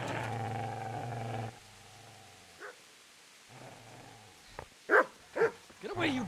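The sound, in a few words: dog barking and growling, from the video game Kingdom Come Deliverance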